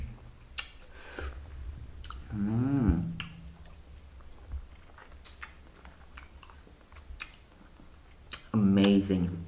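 Tomong fruit dipped in spicy salt with chili and sauces is bitten and chewed up close, with crisp crunchy bites scattered through and a few soft mouth sounds between them.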